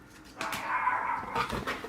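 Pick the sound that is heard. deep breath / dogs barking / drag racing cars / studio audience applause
dogs barking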